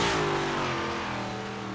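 Big Block Modified dirt race car on a qualifying lap, its engine roaring loud and steady close by, then easing slightly as it passes.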